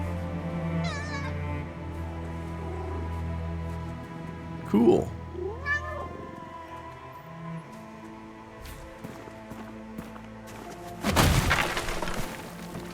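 A cat meowing in the video game No Rest for the Wicked, several short meows over game music and ambience, with a person briefly speaking, followed by a loud burst of impact noise near the end.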